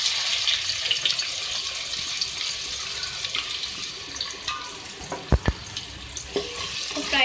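Two medium onions fry in mustard oil for beef arvi gosht, with a soft steady sizzle and stirring, plus a few sharp utensil knocks near the end.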